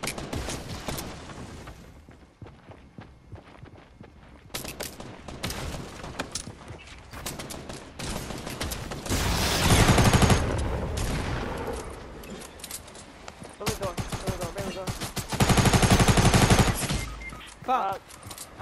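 Gunfire in Fortnite comes in several loud, close bursts of rapid shots with quieter stretches between them, while people talk now and then over the shooting.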